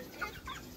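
Hens clucking softly in a chicken coop, two brief, faint clucks close together over a low background hiss.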